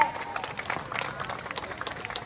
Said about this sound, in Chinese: 大家用上热烈的掌声欢迎咱的陈基迈市长。